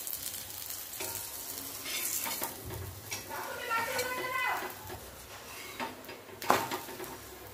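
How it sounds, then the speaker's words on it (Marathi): An onion masala paratha fries in oil on a pan, giving a steady soft sizzle broken by spatula scrapes and stirring clatter against the metal. A voice can be heard at times over the cooking sounds. "तेल टाकून छान खरपूस भाजून घ्यायचा बघा"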